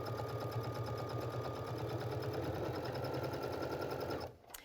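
Baby Lock sewing machine stitching fabric with a garment maker foot, a steady rapid mechanical whir and needle patter heard close up, stopping abruptly near the end.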